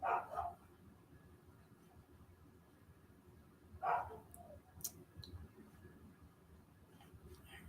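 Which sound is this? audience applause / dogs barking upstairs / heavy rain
dogs barking upstairs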